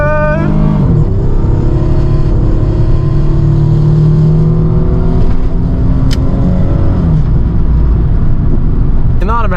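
A Nissan 300ZX Z32 with an automatic transmission accelerating hard through the gears: loud engine howl climbing in pitch, dropping at each shift, then climbing again, heard from inside the car.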